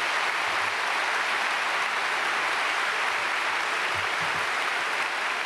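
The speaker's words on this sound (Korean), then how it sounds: "우리 앞으로 나오실 때 박수로 환영하겠습니다." A church congregation at a Sunday worship service welcomes the pastor to the front with steady, dense applause that fills the room evenly for several seconds, with no voices over it.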